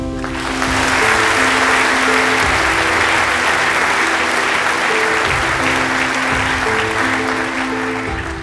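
A conference audience claps warmly and steadily for about eight seconds, welcoming a panel of speakers, full dense applause swelling early and holding before easing slightly at the end, with music faintly underneath.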